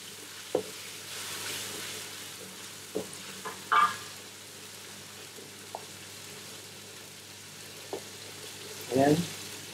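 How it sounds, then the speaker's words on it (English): Chili sautéing in a pan for beef curry, a faint continuous sizzle with a few sharp scraping clinks of stirring scattered throughout. "And then I put chili inside and sauté it."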